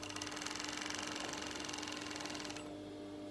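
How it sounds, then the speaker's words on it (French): An overlock machine sews a serged hem along the bottom of a fabric tunic. Its rapid, even mechanical buzz runs close and steady for about two and a half seconds, then cuts off abruptly. "il me reste à faire un surjet sur le bas du vêtement"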